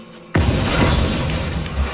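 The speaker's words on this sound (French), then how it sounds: "Et regardez, je vais déclencher l'explosion." A C4 explosion set off in the video game Just Cause 3 erupts as a sudden loud boom after a brief quiet moment, followed by a sustained rumbling roar that stays dense and loud for the rest of the moment.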